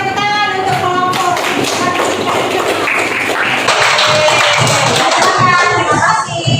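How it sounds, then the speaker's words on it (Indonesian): Classroom applause for a group of pupils, several seconds of dense, close clapping from many hands, with children's voices mixed in. "tepuk tangan untuk kelompok"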